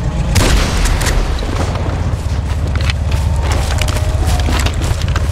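A meth lab cookhouse trailer blows up in GTA 5, a loud sustained booming explosion with splintering wood and crackling debris rolling on for several seconds, dense and close.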